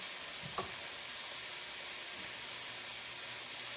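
Butter sizzles steadily in a pan while chicken fries, a constant close hiss with a brief stir or scrape of a utensil near the start; no talking.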